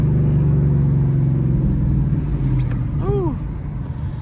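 A loud 2014 Ford Mustang GT fitted with long tube headers rumbles close by, holding a heavy idle before a sharp rev blip on a downshift.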